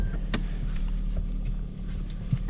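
Steady electric whir of a power window motor on a 2010 Chevy Corvette Grand Sport, running close and continuously for a couple of seconds over a low car hum.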